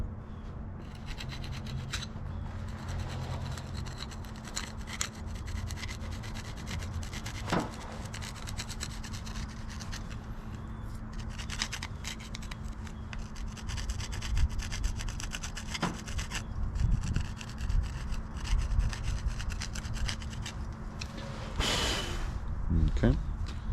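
Steady metal scraping and filing on the teeth of a Gyro-Trac forestry mulching head, a continuous rasping rub with louder strokes near the end, with some talk heard over it.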